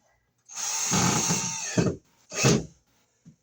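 A power driver sends a screw into wire mold on a wall while new Romex wiring and an outlet go in, a sustained close whir of about a second and a half, then a shorter second burst and a faint tap.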